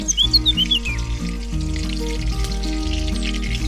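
Oil sizzles in a hot pan while pumpkin leaf paste is being prepared, a steady close frying hiss with a few brief chirpy tones near the start and a faint hum underneath.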